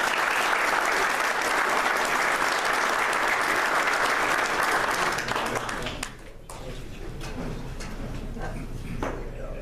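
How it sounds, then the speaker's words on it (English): An audience claps loudly for an inductee at the 2015 Gibraltar Carlson Hall of Fame induction. The dense ovation thins after about six seconds into scattered, individual claps. "How about a big round of applause for our next inductee, Mr. Nick Cava."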